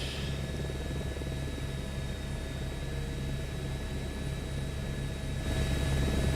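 Steady rotor and turbine drone of an H125 helicopter in Microsoft Flight Simulator 2024, flying over Churchill, Manitoba, as a continuous loud hum with a low pulsing beat, with no voices over it.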